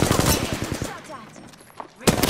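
Rapid gunfire in the video game Apex Legends, a dense burst of close automatic shots opening the moment, fading into quieter game noise, then another loud volley at the end, with a voice speaking over it.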